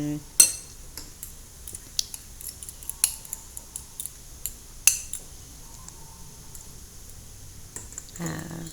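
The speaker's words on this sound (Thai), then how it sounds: "ตีไข่ให้เข้ากัน" A spoon beats eggs for an omelette in a bowl, making scattered light clinks and taps against the dish, close but soft, with a stronger knock near the start and a brief burst of rustling at the end.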